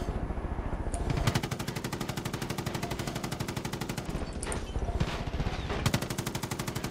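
Rapid automatic gunfire from Far Cry 5, loud and close, with dense bursts of evenly spaced shots running almost continuously and a few brief pauses.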